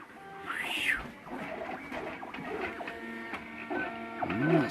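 A 3D printer at work on a print-in-place fidget cube, its stepper motors sweeping up and down in tone like chirps over a low buzzing hum, steady and close.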